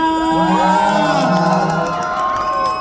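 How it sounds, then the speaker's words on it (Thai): An audience at a fan event for the Thai actor Ford cheers loudly, with excited shouts and whoops filling the whole stretch as one continuous crowd roar. "ต้องปรบมือดัง ๆ ให้กับฟอร์ดเลยจริงๆ"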